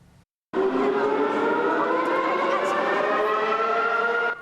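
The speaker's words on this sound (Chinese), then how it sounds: "警报声响" A loud, sustained air raid siren wails steadily with rising harmonic tones, starting abruptly after a brief quiet moment and holding at full volume, in a Taiwanese civil defense context.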